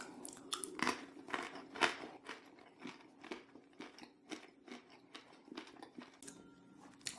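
Plain flatbread cracker topped with buffalo-milk Quadrello di Bufala cheese being bitten and chewed up close, a string of crisp crunches that settle into quieter, rhythmic chewing, fairly faint and with no talking.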